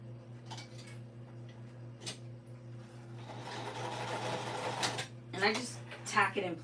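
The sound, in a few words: sewing machine back stitching a bag seam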